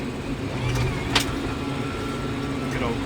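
New Holland T5 tractor reversing across a field, a steady engine drone throughout with a brief higher whine midway, running continuously at moderate loudness.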